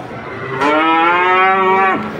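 A jumbo beef cow for sale at a cattle market gives one long, loud, close moo lasting over a second, with no voices.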